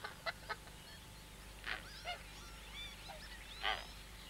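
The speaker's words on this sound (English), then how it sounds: "This is a Coscoroba swan, a South American bird." Coscoroba swan, a South American waterfowl, at a wildfowl reserve in Lancashire, giving a few short honking calls: two quick ones at the start, then scattered single calls, with a louder final call, moderately near over outdoor background.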